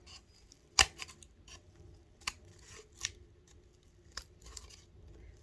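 Scissors make small cuts around a circle in coaster scraps, giving sharp individual snips spaced irregularly with soft rustling and handling between them, close and fairly quiet.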